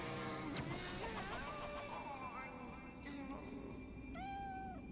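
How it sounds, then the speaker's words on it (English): A cat meows in the samurai action game Nioh: several drawn-out, wavering meows with rising and falling pitch, close and clear over a steady low ambient hum, the last cry long and bending. "Even cats speak in these lands."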